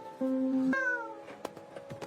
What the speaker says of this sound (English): Excuse me, is that a cat in here?